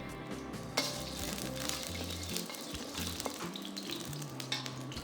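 Oil sizzling in a pan reused without washing before Kung Pao chicken aromatics go in, a faint steady frying hiss with occasional small pops and clinks.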